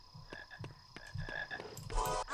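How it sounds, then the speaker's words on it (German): Frogs croak in a Harry Potter video game, a rhythmic series of close, pulsing croaks with a brighter burst near the end over steady ambient game sound. "ich höre viele Frösche. Ist ein Froschkonzert."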